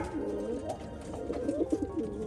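Racing pigeons coo inside a loft, several soft overlapping throaty calls repeating in low rolling phrases close by, with faint rustling and no talk.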